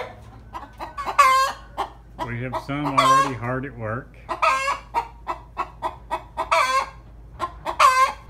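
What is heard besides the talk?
chickens clucking in a chicken house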